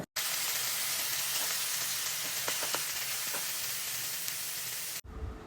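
Pieces of chicken frying in a small pan for butter garlic chicken, giving a steady close hiss with a few pops. The sizzle cuts off abruptly near the end.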